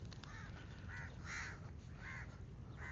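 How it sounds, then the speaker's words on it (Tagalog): Several crows caw in a loose series of harsh calls in Saudi Arabia, somewhat distant, over steady outdoor background noise. "ingay ng mga uwak eh."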